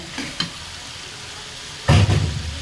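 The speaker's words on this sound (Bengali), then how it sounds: "এখন এর মধ্যে আমি তরকারিগুলো ঢেলে দেব এই যে ভেজে রেখেছিলাম তরকারি বেগুন আলু সেগুলোকে সব ঢেলে দেব" Pre-fried eggplant and potato pieces poured into a pan of cooked-down spices for a pangas fish curry, giving a loud, close burst of sizzling after a couple of faint stirring taps.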